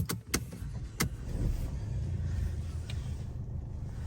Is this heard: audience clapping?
no